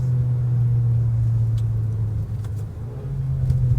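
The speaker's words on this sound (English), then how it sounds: "It does have a decent amount of torque and pull for such a non-turboed engine down low" A Mazda CX-5's non-turbo SkyActiv engine hums loudly and steadily, a low drone that rises slightly as the SUV pulls, heard from inside the cabin.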